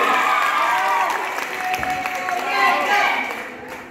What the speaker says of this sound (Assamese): এই বৰ্ষৰ শ্ৰেষ্ঠ কণ্ঠশিল্পী হাত চাপৰি এটা ডাঙৰকে সকলোৱে বজাব লাগে